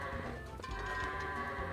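Goats in The Legend of Zelda: Twilight Princess bleat in a short, fairly loud burst over game background music.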